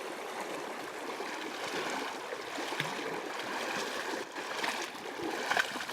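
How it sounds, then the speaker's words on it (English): A river streams and gurgles steadily as someone wades across on foot, a continuous moderate rush of moving water with small surges and no voices. "very effective way of wading across a river"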